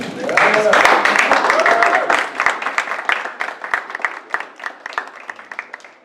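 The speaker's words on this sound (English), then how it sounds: "please give a round of applause to our Senate Chair candidates here tonight" An audience at a Senate Chair debate gives the candidates a round of applause: loud dense clapping that thins into scattered claps, with voices talking over the start.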